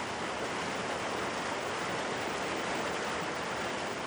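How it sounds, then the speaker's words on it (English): A little waterfall fed by a desert wadi at Tamerza on the Algeria–Tunisia border pours with a constant, dense rushing hiss, loud and unbroken throughout with no voices. "One of them feeds this little waterfall on the border of Algeria and Tunisia in the region of Tamerza"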